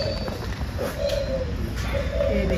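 Birds at Ranchi zoo coo softly in repeated low calls over a steady, noisy outdoor background, with occasional faint knocks and no clear talk.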